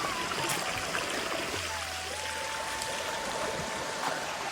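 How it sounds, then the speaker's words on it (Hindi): A river near a crossing point in dense forest at Chitrakoot flows with a steady, broad rushing wash that stays even throughout, moderately close and without any voices over it. "तो नदी के पास पार होना पड़ा"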